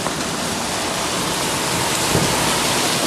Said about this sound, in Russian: Дождь не прекращается.